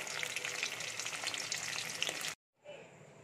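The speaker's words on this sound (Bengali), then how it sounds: "আমি ভেজে নেব, একে একে সবকটা পনিরই ভেজে নেব।" Pieces of paneer frying in shallow oil for a chilli paneer dish, a dense, steady crackling sizzle that fills the first two seconds before cutting off briefly and resuming more faintly.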